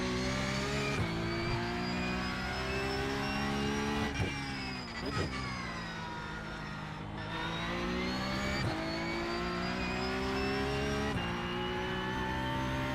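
A Porsche Cup race car engine in a racing video game revs loud and steady throughout, its harmonic whine rising and falling through gear changes with a few brief dips, with no talking.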